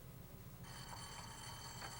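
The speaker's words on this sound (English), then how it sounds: "There's the phone." A telephone rings faintly in a room, a buzzy electronic trill that starts partway through and continues steadily.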